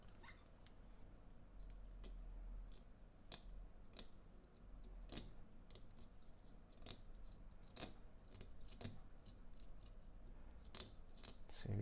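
A small cutting tool scrapes and nicks at an iPhone 7 Plus circuit board near the A10 RAM chip, making faint, sharp, irregular clicks and scratches at close range.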